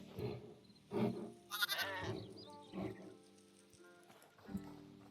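Sheep in the video game Hytale: several short bleats and baaing calls spread through a few seconds with small gaps, one louder wavering cry early, heard close and fairly quiet.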